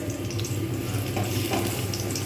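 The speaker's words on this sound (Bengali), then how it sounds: "পেঁয়াজগুলো হালকা লাল করে ভাজবো যতক্ষণ পর্যন্ত না লাল হচ্ছে" Onions frying in a pan for doi pona fish curry, a steady low crackling sizzle with faint stirring scrapes, continuous and close, no voices.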